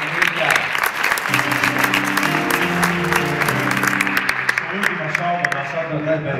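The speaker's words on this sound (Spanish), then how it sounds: "Fuerte el aplauso para Nicolás Larte" An audience at a stand-up comedy show in Tucumán breaks into loud, sustained clapping with a few cheers, while a voice carries on over the applause.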